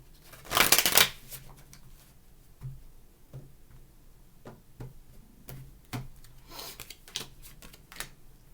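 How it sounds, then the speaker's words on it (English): Tarot cards being shuffled by hand, a loud riffle burst near the start followed by a series of light, spaced card taps and flicks at close range. "Last shuffle, please."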